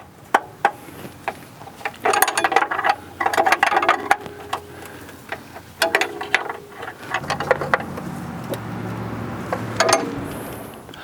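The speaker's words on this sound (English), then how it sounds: "reach in with a wrench to do the final tightening of those two nuts" Wrench tightening two nuts on the upper control arm of a 2003-2007 Honda Accord, close bursts of rapid ratcheting clicks separated by short pauses, with metallic knocks and a low hum underneath.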